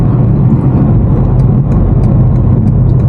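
Inside a BMW F90 M5 Competition driving through New York City traffic, a loud, steady low engine and road drone fills the cabin without pause.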